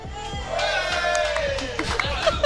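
Golf terrace audience applauding and cheering, a loud, dense burst of claps and whoops up close with a lively crowd murmur running underneath.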